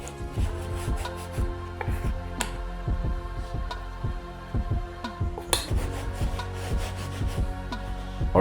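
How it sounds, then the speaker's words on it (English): Hands rubbing wet coffee grounds into denim jeans to distress them, a close scratchy scrubbing in a steady back-and-forth rhythm with soft knocks and taps throughout. "I'm literally taking some of my coffee mud and I don't know, let's just rub it in"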